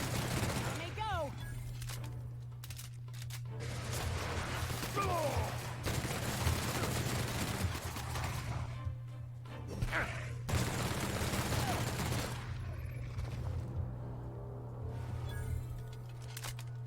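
Gunfire in the video game The Outer Worlds comes as bursts of fast, sharp shots that break up across the scene, mixed with game effects and character speech.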